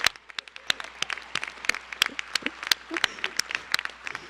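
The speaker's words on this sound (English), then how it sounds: "Please join me once again in a round of applause for all our new inductees" A small audience at a high school National Honor Society induction ceremony claps for the new inductees, sparse and uneven hand claps close by, with some murmuring underneath.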